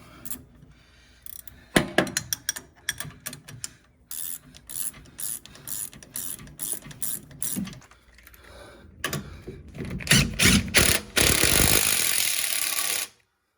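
Hand ratchet cranking a carrier bearing cup down onto a Toyota Tacoma driveshaft during a lift install, with rapid bursts of close metallic clicking and pauses, growing louder and denser toward the end, no talking.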